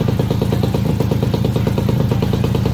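A Yamaha PW50 small motorcycle engine running after idle and fuel screw adjustments, a loud, close, steady rapid putter that holds an even pulsing rhythm throughout.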